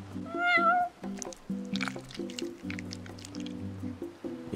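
A cat meows in Final Fantasy XV, a rising then falling cry near the start, heard over soft background game music with faint clicks and movement.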